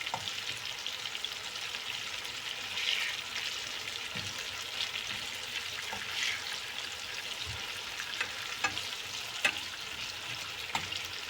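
Chopped tomatoes frying in a pan, giving a steady close sizzle through the whole stretch, with occasional soft scrapes and taps as they are stirred, and no voices.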